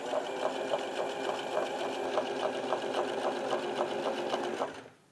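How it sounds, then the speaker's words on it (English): A sewing machine runs at a steady fast pace stitching a straight line through fabric, its rapid rhythmic needle clatter close and loud before stopping abruptly near the end. "I'm gonna first sew in my line. I'm gonna go straight down for about 4 inches."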